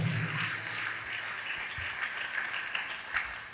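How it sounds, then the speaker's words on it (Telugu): A church congregation claps in joyful praise, a dense steady wash of applause at moderate distance lasting the whole stretch. "చప్పట్లు కొట్టి దేవుడు మహిమపరుద్దాం గట్టిగా, సంతోషంగా"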